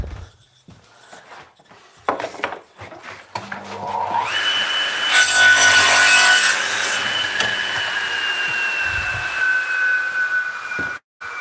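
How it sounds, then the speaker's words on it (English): A saw cuts through wood while a simple birdbox is built, starting with scattered scrapes and knocks, then a loud, sustained cutting drone that runs steadily to the end, with no talk. "that saw, or any saw in fact, can grab"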